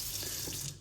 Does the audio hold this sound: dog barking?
no